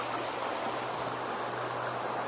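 Oak Creek runs steadily near a broad flat rock area at Cathedral Rock, a constant soft rushing and babbling wash of water with a faint low hum beneath, no voices.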